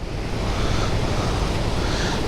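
Glacier meltwater crashes down a steep mountain slope on the Manali to Killar route, a loud, constant broadband rush close by with no letup and no voices.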